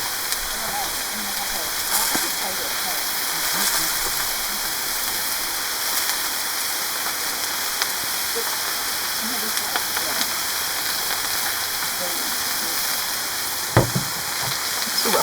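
Food searing in a pan over an outdoor fire while foraging, a steady broadband sizzle and hiss running throughout, moderately loud, with faint voices and a brief knock near the end.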